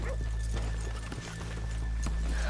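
Horses' hooves clip-clop on a town street in Red Dead Redemption 2, several uneven close thuds with a brief snort or whinny over a steady ambient rumble.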